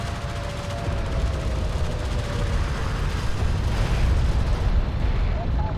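A turret post blowing up in the Homeworld: Deserts of Kharak strategy game, a dense, sustained rumbling blast with crackling debris that stays loud throughout amid ongoing battle noise.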